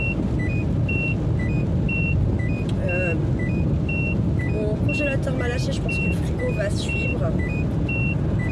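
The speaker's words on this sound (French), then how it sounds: "Parce qu'il attache ses doudous, puis il les détache pendant qu'on roule. Donc forcément, après, bah, la voiture, elle sonne." A car's seatbelt warning chime beeps repeatedly at an even, rapid rhythm inside the moving vehicle, clear and close over road rumble while a person talks.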